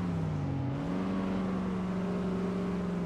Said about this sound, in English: Let's do a little bit of outside view action for you so you can hear the car.